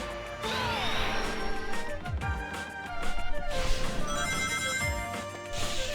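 A telephone rings repeatedly in the Wii game Sonic Unleashed, its bright electronic tones recurring over a dense layer of game music and effects.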